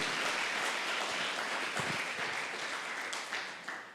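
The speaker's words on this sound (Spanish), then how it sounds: "Demos un aplauso al Señor porque nosotros pertenecemos a Él y somos de Él." A church congregation applauds together in steady, dense clapping that fills the space, then thins and fades toward the end.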